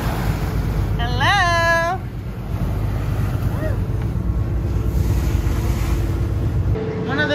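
Ocean waves and wind on a crab fishing boat at sea off Alaska, a constant loud wash of surf and wind buffeting the microphone, with a brief whistling tone near the start.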